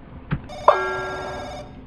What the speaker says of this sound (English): I hear phone.